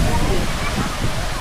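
Dampalit Falls in Los Baños, Laguna pours down in a steady, broadband rush, close and continuous with a low churning roar and no breaks.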